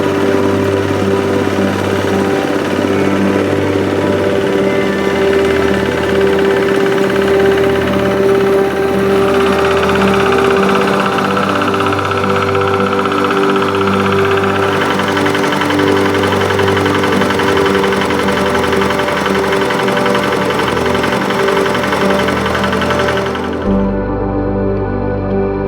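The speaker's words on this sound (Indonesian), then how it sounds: "pengolahan tanah dapat menggunakan traktor tangan" A hand tractor engine runs steadily while tilling soil on tidal farmland, a loud, continuous knocking drone with rhythmic chugging that holds for most of the span before cutting off near the end.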